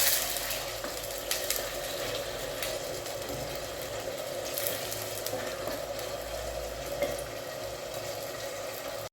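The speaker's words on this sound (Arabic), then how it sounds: "دوب ما يذبل البصل شويه نهبطوا عليه بالكبده" Fresh chicken liver frying with softened onions in hot oil in a pan, a steady, close crackling sizzle that runs unbroken throughout with no voices.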